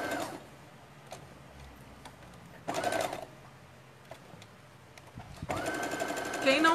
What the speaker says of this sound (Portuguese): Aí eu levanto o calcador e prossigo com a minha costura.